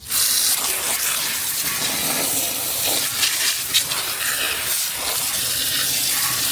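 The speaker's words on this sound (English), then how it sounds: "burning ash sound when that water hits it." Water poured onto burning ash in a barrel hisses and sizzles steadily, close and loud, with small spurts and crackles through a continuous steamy rush; no one speaks.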